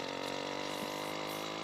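A small engine on a motorized bicycle runs steadily in the background, a continuous buzzing drone with a dense harmonic hum and no break.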